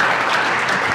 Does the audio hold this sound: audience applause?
yes